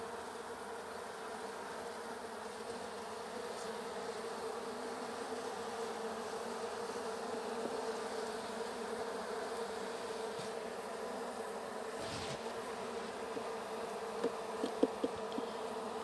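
Honeybees in a weak hive hum steadily as a dense, close, continuous buzz, with a few faint knocks near the end and no voices.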